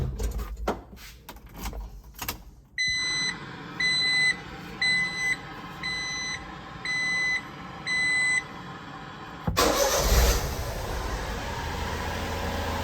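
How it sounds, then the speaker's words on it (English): Mini truck fitted with a lawn mower battery: a few clicks, then a run of regular dashboard warning beeps, followed by the engine catching and settling into a steady hum near the end. "let's turn on the car to make sure everything's good"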